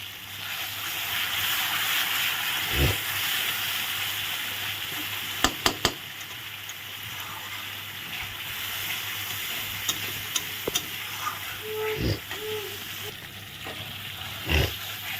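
Spices with salt and turmeric fry in a pan under steady stirring, a continuous close sizzle and hiss with occasional spoon clinks and scrapes, a few brief sounds of activity nearby.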